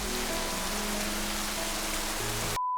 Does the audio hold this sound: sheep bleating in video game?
no